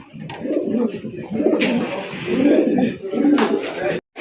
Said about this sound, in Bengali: সিল্কি লক্ষা কবুতর, খুব সুন্দর করে দুইজনেই কিন্তু হাড়িতে বসে রয়েছে।